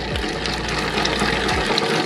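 Water gushes and pours continuously into a running dough mixer over its constant low machine hum, a full, rushing flow without pause.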